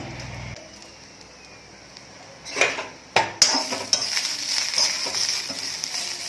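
Garlic and roasted chillies go into oil in a pan for a chilli thecha, with a sudden clatter of a utensil against the pan, then a sustained close sizzle and occasional stirring scrapes after a quiet start.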